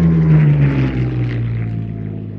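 A Hispano Buchon airplane fitted with a Rolls-Royce Merlin 500 engine drones loudly and steadily at an airshow, its deep propeller roar holding close and even throughout with no voices over it.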